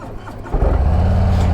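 A 2022 Harley-Davidson Street Glide ST bagger with the 117 engine cranks briefly, then fires up into a loud, close, rumbling idle.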